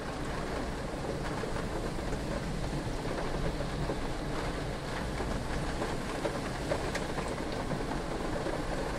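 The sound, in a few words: heavy rain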